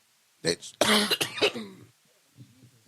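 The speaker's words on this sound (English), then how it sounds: "It's a dry-ass cough, bro." A few harsh, dry coughs close to the microphone, a quick cluster followed by a quieter throat sound.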